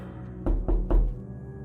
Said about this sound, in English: I heard a knocking on the bedroom door.